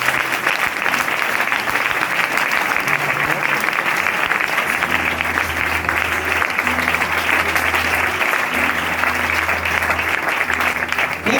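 A church congregation applauds during a worship service, a loud, sustained wash of clapping that carries on evenly for many seconds, with a low hum of voices or music underneath.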